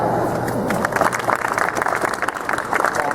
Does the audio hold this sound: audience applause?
yes